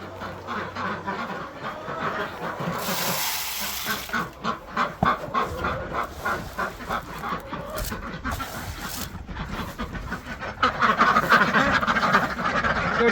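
Ducks on a small farm quack repeatedly and close by, the honking calls coming in quick bursts that grow busier and louder toward the end.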